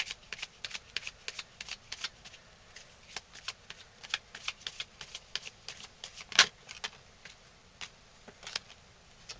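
Tarot cards being shuffled by hand in a quiet room, a long run of quick, crisp riffling flicks with one sharper snap partway through, close and fairly faint with no talking.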